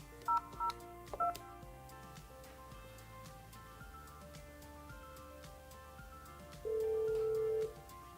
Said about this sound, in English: Dial the person you want to transfer the call to and pause until the phone auto dials.